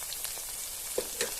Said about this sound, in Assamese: অলপমান ফ্ৰাই কৰি ল'ম আদা নহৰুৰ লগতে